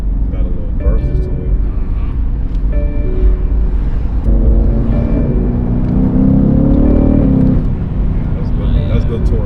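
The engine of a tuned BMW M850i hums loudly and rises in pitch as the car pulls harder, under people talking inside.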